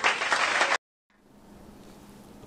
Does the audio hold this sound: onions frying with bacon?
no